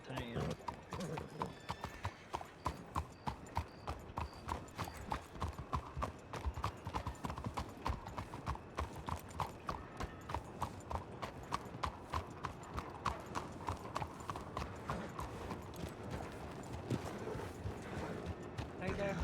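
In Red Dead RP, a horse named Mahogany trots with steady, rhythmic clip-clop hoofbeats that continue throughout. A faint whinny can be heard, and someone speaks over the hooves.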